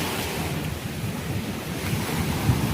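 Sea waves wash and roll continuously during rain and strong wind, the wind buffeting the microphone in a loud, steady roar.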